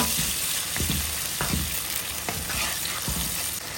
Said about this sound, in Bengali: রসুন বাটাটা দিয়ে আমি ভালোভাবে আবার এটাকে বেজে নেব